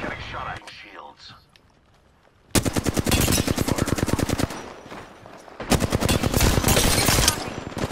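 Rapid automatic gunfire in Apex Legends comes in two long, loud, close bursts, each a dense rattle of shots. Quieter game noise fills the stretch before and between them.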